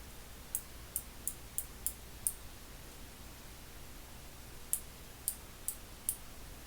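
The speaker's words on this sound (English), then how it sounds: "this is how it looks when it's ratcheting" A Titan micro ratchet, a 1/4-inch drive with a four-tooth pawl engagement, clicks in two quick bursts of sharp ticks, about six and then four, close up and alone over quiet room noise.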